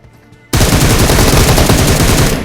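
Sudden, loud, rapid automatic gunfire erupts from behind the player in a video game, a dense sustained burst of shots that continues without pause after a brief quiet moment.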